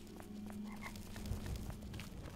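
A frog croaks in the video game Oblivion, low and somewhat faint, a few short throaty calls against a steady ambient hum.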